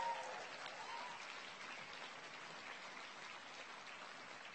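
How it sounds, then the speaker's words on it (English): An audience at a president's update meeting gives a round of applause, a dense, steady wash of clapping that stays even and fairly distant, fading slightly toward the end. "Can we show them by a round of applause if we think this has been worth it?"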